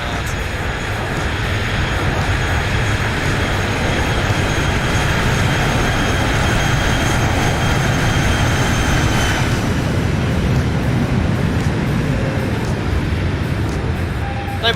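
A Boeing 737 in X-Plane 11 lands at Tegucigalpa's Toncontin airport and brakes hard, with a loud, continuous engine and rushing roar that shifts in tone partway through and stays close throughout.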